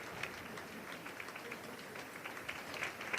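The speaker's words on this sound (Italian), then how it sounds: "con gli applausi del pubblico qui al Teatro Goldoni di Venezia" Audience applause fills the Teatro Goldoni in Venice, a steady, moderately distant wash of many hands clapping without pause.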